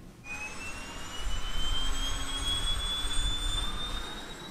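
A PT6A turboprop engine on a King Air B200 runs steadily during rigging checks, a loud continuous turbine roar and rising whine with heavy low rumble throughout.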